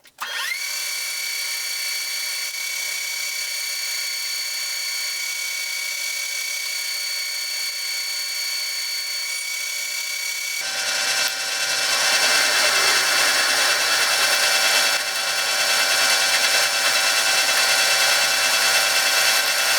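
A step drill bit bores into metal during a wood chipper repair, a loud, steady high whine from a power drill that shifts partway through into a harsher, grinding bite as it cuts, continuing unbroken to the end.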